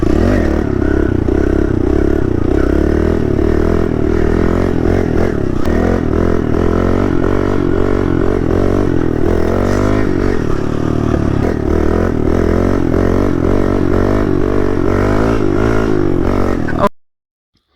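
A Kawasaki KLX110L pit bike during wheelie practice, its small engine droning and revving steadily throughout with clattering and scraping, loud and close, then cutting off abruptly at the end.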